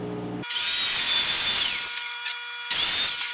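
Power saw cutting through a wood board along a marked line: loud, close whining blade bursting in, running steadily for over a second, then dropping out briefly and cutting again.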